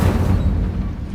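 Incendio fire spell cast in the video game Hogwarts Legacy, a brief, loud, low, rumbling fiery burst that stays steady for about a second.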